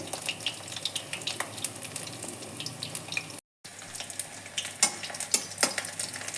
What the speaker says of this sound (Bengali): আমার সমস্ত বড়া ভাজা হয়ে গেছে।